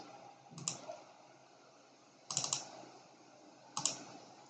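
Quiet typing on a computer keyboard comes in three short bursts of clustered clicks separated by pauses, close but soft, with no talk.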